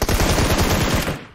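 Dense automatic gunfire in PUBG Mobile, a rapid loud burst of rhythmic shots filling most of the moment before cutting off and trailing away.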